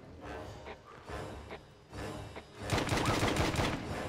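Gunshots in the action game Wanted: Weapons of Fate: a few scattered shots early on, then a loud, dense burst of rapid automatic fire in the last second and a half, close and sharp.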